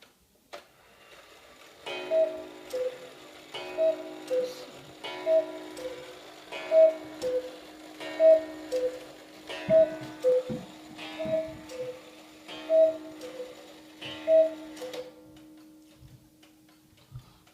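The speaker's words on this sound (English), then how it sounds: "So there's a pair of very exotic cuckoo clocks, both made by Johann Baptist Beha." Johann Baptist Beha exposed-movement cuckoo clock running, a steady loud tick-tock followed by a series of evenly spaced two-note cuckoo calls with whirring works beneath, ending with soft ticking alone.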